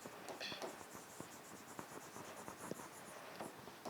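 Handwriting on paper for a Class 11 biology solution on algae classification, heard as a close, steady scratchy scribble of pen strokes with small taps, continuing alone for the whole span.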